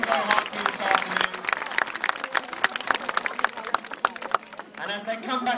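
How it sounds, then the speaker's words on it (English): An audience at an elephant show claps in sustained, dense applause. The clapping is loud and fairly close, and it fades near the end as a voice returns. "give him a big round of applause"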